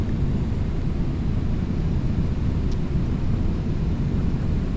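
Broad steady rumbling roar of air and engines inside a Boeing 737 on approach with the speed brake deployed, loud and continuous throughout with no talk.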